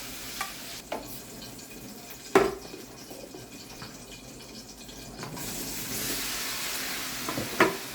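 Eggplant pieces fry in a pan with a soft, continuous sizzle, broken by a few sharp clinks and scrapes of utensils and a louder burst of hissing oil late on, heard without speech.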